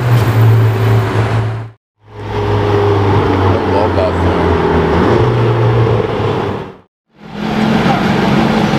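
A McLaren GT sports car going by, with a loud droning engine and road roar that holds steady with two short cutouts. Excited voices talk over it.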